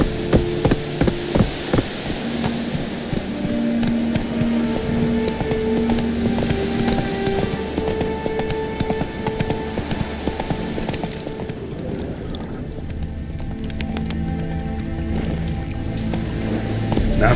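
Geralt's horse Roach trots in Witcher 3, a quick, regular clip-clop of hooves running steadily throughout beneath sustained game music tones.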